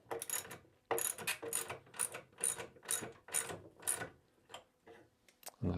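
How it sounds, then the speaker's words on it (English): Needle nose pliers tightening a nut on a glider rocker's bearing joint, a series of sharp ratcheting metallic clicks in repeated bursts about every half second, close and clear with quiet gaps between. "I'll just use a pair of needle nose pliers to get in this narrow gap"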